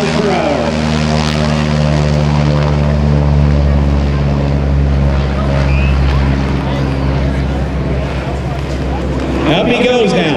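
A propeller aerobatic airplane accelerating down the runway on takeoff at about 2,500 RPM, its prop tips going supersonic, producing a loud, steady, harmonic-rich engine and propeller roar throughout, with a commentator talking over it.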